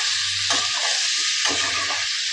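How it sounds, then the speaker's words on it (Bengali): Spices including cumin powder being stirred in a pan of hot oil for a potato curry, a close steady sizzle with two distinct rounds of spatula scraping. "এবার ভালো করে একটু নেড়ে চেড়ে নিচ্ছি"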